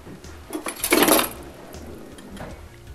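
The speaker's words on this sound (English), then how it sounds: "So I'm putting 2 tablespoons of yeast into here, and I'm going to just whisk it up a little bit." A whisk clinks and scrapes against a bowl while yeast is stirred for pizza dough, in one brief close burst of metallic rattling and then light taps.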